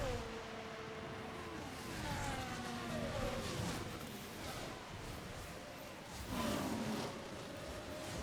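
A Formula race car drives on track at the Chinese Grand Prix. Its engine whines through rising and falling gear pitches, heard faintly and at a distance, and swells briefly as it passes.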